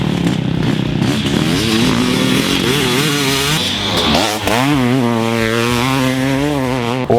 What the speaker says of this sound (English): Once started, the bike sounded crisp and strong.